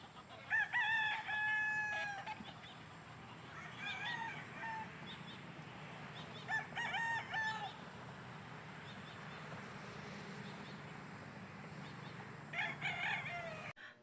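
Roosters crow and chickens cluck on a game farm while the birds are being watered, several clear crows spread across the clip over a steady outdoor background hum.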